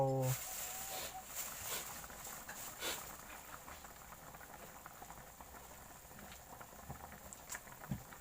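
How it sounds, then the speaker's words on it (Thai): Thai chicken curry with eggplant bubbling in a pot, a soft, steady low boil with faint popping and patter, quiet and close, with a brief clatter at the start. "และที่ระหว่างรอจนเดือดนะครับ"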